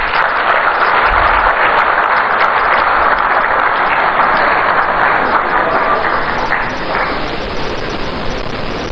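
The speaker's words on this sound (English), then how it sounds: "with a round of applause, shall we welcome up here Honorable Sam George" An audience claps loudly and continuously to welcome a speaker at a public event in Accra. The dense applause holds throughout, easing slightly toward the end.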